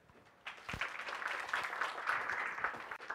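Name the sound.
audience applause welcoming a conference speaker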